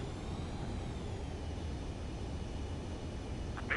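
An aircraft on landing approach to a runway in the video game Ace Combat 7, a steady broadband engine and wind roar throughout with no speech.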